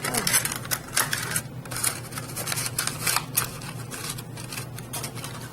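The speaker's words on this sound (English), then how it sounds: "going to have to trim a little piece of this tab piece" Trimming a small tab piece on a square mini gumball machine craft: a quick series of sharp, close snips and clicks in an uneven rhythm, with no talking.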